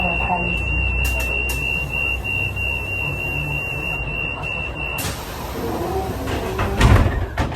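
Doors on a Mexico City bus open at a stop: a steady high buzzer tone sounds for several seconds, then cuts off as the doors slide with a brief clunk amid bus noise.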